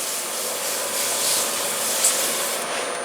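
Sandpaper at 320 grit rubs against a spinning wooden bowl on a lathe during finishing, a steady close broadband hiss that holds evenly for a few seconds with a faint high whine behind it.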